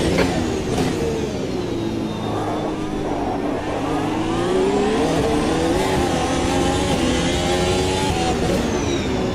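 An F1 race car engine in the video game Automobilista 2 screams steadily through the whole stretch, pitch rising and falling through shifts and revs, loud and continuous.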